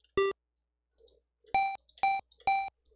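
Sega PSG sound chip noise channel playing a pitched note, heard as four short, bright buzzy tone bursts, one alone then three evenly spaced, with faint keyboard clicks between them.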